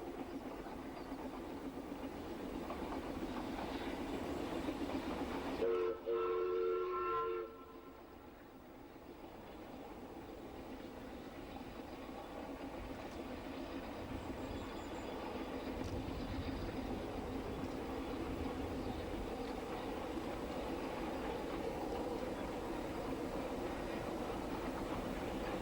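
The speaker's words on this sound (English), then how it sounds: "Beyond Tanabulk, the train runs along the hillside above Carrantrip and the artificial lake of Llyn" A Ffestiniog Railway steam train runs along a hillside above a lake, making a steady rumbling rail roll throughout, with a brief tonal whistle-like sound near the start and faint clatter.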